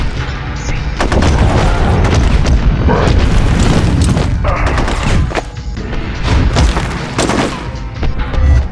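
In the Hulk 2003 video game, rocket explosions and heavy gunfire crash in dense, loud bursts of booms and rapid blasts that run on almost without a break.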